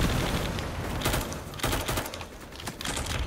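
Rapid gunfire and a grenade blast rattle through a firefight in the video game Firewall Ultra, with dense, continuous bursts and sharp cracks filling the whole stretch at close range.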